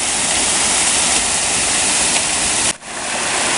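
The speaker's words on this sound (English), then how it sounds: "it's just nice little waterfalls here and there." Small waterfalls on Ledbetter Creek, a wooded mountain stream along a hiking trail, rush in a loud, steady, close wash of falling water that briefly drops out near the end.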